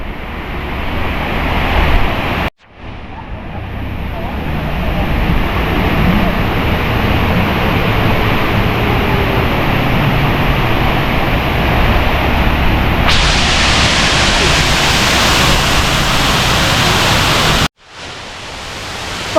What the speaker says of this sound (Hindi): अब इस वाटरफॉल के पास आए हैं, तो बहुत ही खूबसूरत किस्म की वाटरफॉल है।